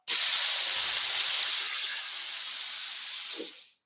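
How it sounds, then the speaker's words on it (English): A plasma cutter firing with compressed air on a limousine, giving a loud, steady, forceful hiss that runs for about three and a half seconds before cutting off abruptly. "We have compressed air coming through there. So if I hit this right now,"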